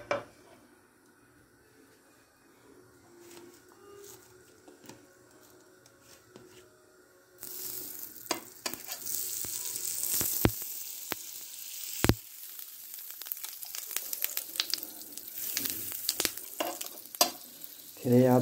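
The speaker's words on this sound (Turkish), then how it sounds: "Tereyağı da biraz pişerken kokuyor ama yapacak da bir şey yok." Butter frying in a pan starts partway through, a broad steady sizzle with sharp crackles and pops rising over faint room noise, loud and close, with no talking.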